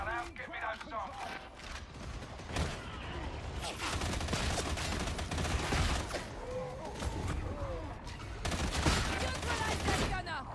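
Rapid servo gun fire rattles through a loud video game battle, bursts of shots layered over continuous combat noise and explosions, with voices talking over the action throughout.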